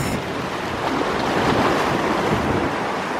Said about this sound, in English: More of the water on the rocks.